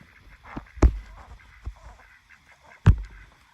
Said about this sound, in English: I'm down here at the ducks.